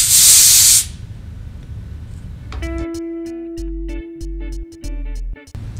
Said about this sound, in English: you'll want to dry out the moisture using the canned compressed air